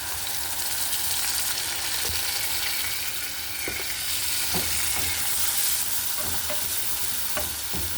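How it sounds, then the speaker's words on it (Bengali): Garlic and onion paste frying in a pan for a dried-fish curry, with a steady close sizzle and occasional stirring scrapes throughout. "রসুন একটু লাল হয়ে আসলে আমি এতে দিয়ে দিচ্ছি 2 চামচ পেঁয়াজের পেস্ট বা পেঁয়াজ বাটা।"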